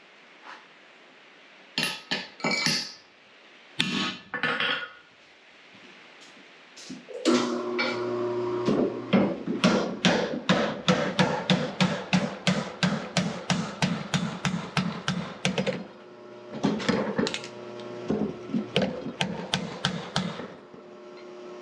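Hammer blows ring out as a disc is driven into a forged hammer head at a tool forge, a few separate strikes followed by a long, fast, regular series of sharp metallic hits.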